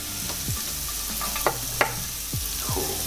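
Garlic and onions fry in a pan for a spicy omelette, a steady soft sizzle with a few spatula stirs and scrapes rising briefly above it, close up with no talking.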